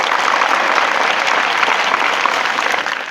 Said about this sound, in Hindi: मैं चाहता हूँ उनके सम्मान में एक बार जोर से तालियां बजाइए।